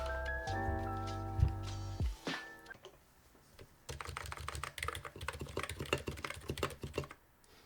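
Close, quick keystrokes on a custom Leila-build mechanical keyboard set flat at a zero-degree typing angle, following a brief musical passage and a short pause, with the clacks arriving in a steady burst.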